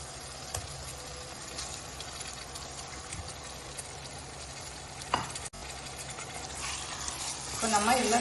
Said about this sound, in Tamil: இப்போ நம்ம இதில் நல்லா ஒரு 4-5 நிமிஷம் நல்லா வதக்கலாம்